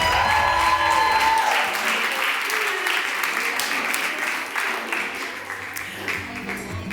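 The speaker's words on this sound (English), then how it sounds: "Another round of applause for Faiza," An audience at an employee volunteerism awards ceremony claps steadily after an award is presented, a continuous wash of applause with light cheering that stays even throughout while a voice continues over it.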